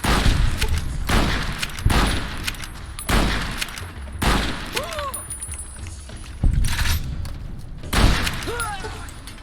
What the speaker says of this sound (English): Does anybody else never get tired of shooting weapons out of people's hands?